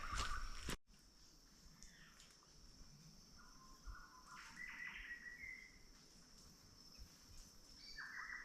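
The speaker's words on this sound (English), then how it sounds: "So nice hearing the little bird calls all around you." Small forest birds on an overnight hike in Conway National Park, chirping and calling in short high bursts at a moderate distance, with soft rustling and footsteps underneath and no speech.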